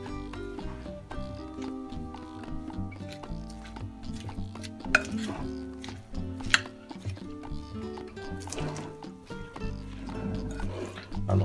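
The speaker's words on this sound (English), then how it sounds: "after we mix it very well like I do" Egyptian green salad is tossed and stirred in a bowl, giving continuous wet clinking and scraping with a couple of sharper knocks against the dish; a voice talks faintly in the background.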